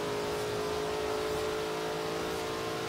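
Lamborghini Jalpa in Forza Horizon 3 accelerating on a highway top-speed run, a steady, loud, droning engine roar that holds its pitch as it pulls hard, with no voices over it.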